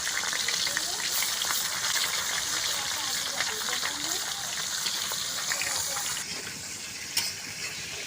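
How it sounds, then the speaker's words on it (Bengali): Tilapia fish frying in hot oil in a pan over a village oven, giving a steady, dense sizzle and crackle throughout, with a brief dip and a sharp pop near the end. "তেল গরম হয়েছে, তো আমি মাছগুলো ভেজে নিচ্ছি।"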